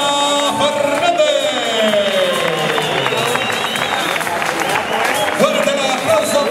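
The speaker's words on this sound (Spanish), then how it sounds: "Fuerte el aplauso, como no, para Mario del Mar Vega Fernández." Spectators applaud and cheer at the Ribera del Guadaira running race in Alcalá de Guadaira, a steady crowd noise heard throughout under a loud announcer's voice on the PA.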